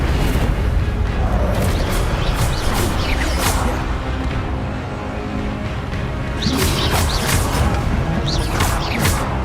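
Incendio fire spells cast during combat in Hogwarts Legacy erupt as dense, continuous roaring bursts and whooshing flames layered with booming crashes, loud and sustained throughout.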